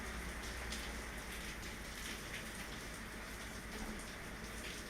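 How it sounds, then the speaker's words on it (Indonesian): Steady rainfall, a soft continuous hiss of drops pattering on surfaces, even and fairly faint throughout, with no voices. "Ditemani suara hujan ya guys."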